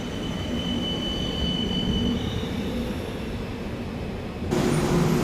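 A small train at Pier-2 Art Center in Kaohsiung, Taiwan, rolls steadily along the rails nearby with a continuous rumble and faint high wheel whine, the noise swelling slightly toward the end.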